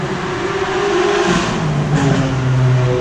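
A car engine revs loudly as it races past nearby, a steady roar with rising and falling pitch that peaks toward the end, heard outdoors with no talking.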